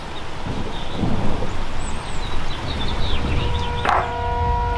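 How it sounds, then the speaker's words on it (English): Rain falling during a thunderstorm beside potted fir bonsai, a steady wash of rain with low rolling thunder rumbling underneath. A brief sharper crack or clatter comes near the end, and no one speaks. "We got thunder with the rain"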